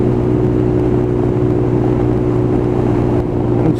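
A Lexmoto Tempest motorcycle with a cutting-out fault held at full throttle, its engine a loud, steady, unbroken drone with a strong low hum and little change throughout.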